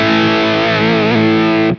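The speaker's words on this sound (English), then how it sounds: "So we'll start with the crunch here, slightly less gain" An electric guitar runs through a Blackstar Dept 10 Dual Drive pedal on its crunch setting, a single sustained overdriven chord ringing loud and close before cutting off.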